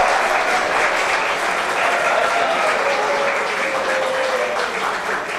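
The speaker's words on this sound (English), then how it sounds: "Give a big round of applause to each other." Audience at a leadership session applauding one another, loud sustained clapping filling the room for over five seconds, with a faint tonal sweep running through it.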